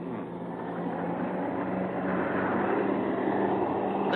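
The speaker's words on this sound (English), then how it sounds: "What are Russian jets doing here?" Russian jet planes pass overhead, a continuous broad roar that holds steady and builds slightly over a few seconds, with no voices.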